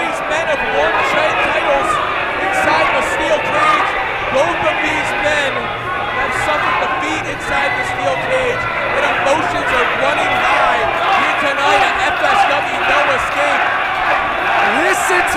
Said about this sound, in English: They're chanting for Ice.